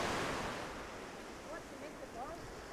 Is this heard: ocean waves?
yes